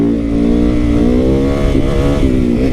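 A torquey beginner motorcycle's engine revs up close and loud, a rough rising growl that holds steady for a few seconds with no talk over it.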